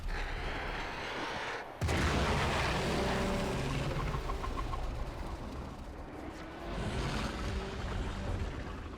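An explosion in the video game Warframe hits suddenly as a loud broadband burst, then rolls on as a sustained, roaring rumble with crackling debris and a second swell near the end, with no talking.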